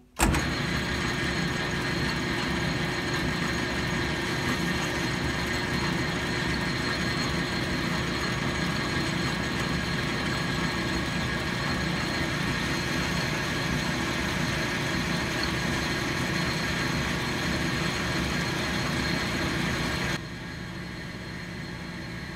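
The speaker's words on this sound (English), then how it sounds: "I'm going to switch back to a regular turning tool and turn down the end here" A metal lathe turns down the end of a small part with a regular turning tool, giving a steady, loud, continuous machine hum and whine that drops in level just before the end. No one speaks.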